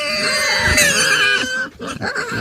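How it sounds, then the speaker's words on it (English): Two pet pigs, Dottie and Cinnamon, squeal loudly and continuously at close range, their shrill cries rising and falling with grunting underneath, breaking into choppier bursts near the end. "Dottie and Cinnamon are the 2 squealingest pigs I've ever owned."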